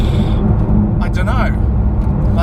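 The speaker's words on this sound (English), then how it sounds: "There is so much more road noise than I thought there'd be." Steady low rumble of road noise inside a Porsche 992 GT3 Touring on the move, loud and constant, with brief faint higher sounds in the middle.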